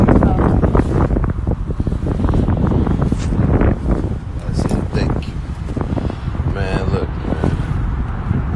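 Roaring wind buffets the microphone during a skydive, a loud continuous rushing blast throughout, with people talking over it.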